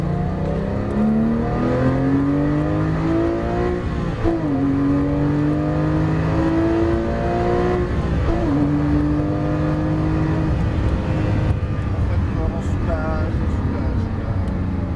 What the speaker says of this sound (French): Et on accélère.